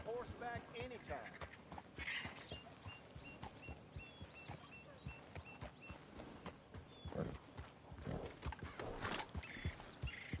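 Horse hooves clip-clop in a steady rhythm in the Red Dead Redemption 2 western video game, set around Saint Denis, mixed with voices, gunfire-like bursts and ambient game sound.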